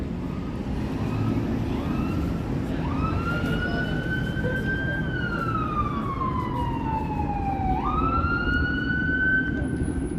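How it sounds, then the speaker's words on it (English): An ambulance siren wails over steady traffic rumble on a Toronto street in the evening, its pitch sliding up and down in long sweeps, fairly near and loud. "Now there's an ambulance now"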